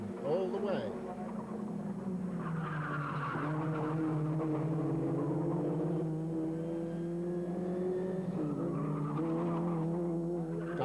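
Formula Ford race cars roaring down the main straight at Phoenix Park road races in 1996, engines droning loudly and steadily under continuous commentary.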